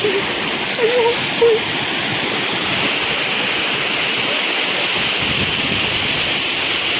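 The Areekal waterfall in Pampakuda, Muvattupuzha, roars as a loud, steady broadband rush of falling water, close and unbroken, with a few faint voices briefly audible early on.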